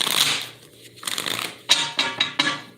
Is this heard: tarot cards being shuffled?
yes